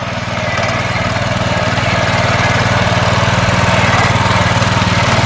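A homemade front-wheel-drive mini tractor runs while driving, its small engine chugging loud and close in a steady, slightly rising throb with a fast rhythmic pulse and no one speaking.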